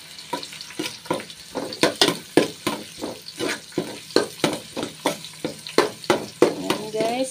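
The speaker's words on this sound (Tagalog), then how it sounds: "Dahil mabilis pong uminit, ilagay na po natin ang bawang." Garlic sizzling in hot cooking oil in a pan, with a steady bright crackle and rhythmic scraping stirs roughly every third of a second, close and clear, with a voice speaking briefly near the end.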